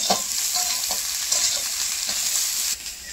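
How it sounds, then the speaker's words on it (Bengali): Brinjal and green chillies frying in oil for a fish curry make a continuous close hiss with intermittent stirring clinks and scrapes, and the sizzle dips in loudness near the end. "বেগুন তো ভালো করে ভেজে নেব।"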